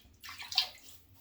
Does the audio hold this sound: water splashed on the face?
yes